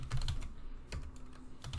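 Fingers tapping on a computer keyboard, a quiet, close run of scattered keystrokes with brief pauses between them.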